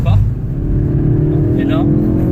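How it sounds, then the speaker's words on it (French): A car drifts on a track at full throttle with its engine loud and close. The engine roars steadily, and someone talks in French over it. "Donc quand je veux lancer, un plus de volant, gaz à fond, hop, elle part."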